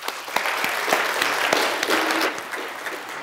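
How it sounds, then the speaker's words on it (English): Brief, steady round of audience applause for a child volunteer at a live science show, a dense clatter of many hands at moderate loudness with no talking over it. "Let's give a little round of applause."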